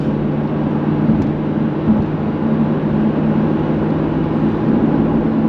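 A rebuilt Audi R8 engine with a gated manual gearbox holds at high revs, giving a loud, steady, droning roar that stays even from start to finish.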